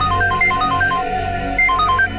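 A telephone rings on and on with no one picking up, a repeating electronic ringtone pattern in bursts over a low steady background hum, in an Indian TV drama scene.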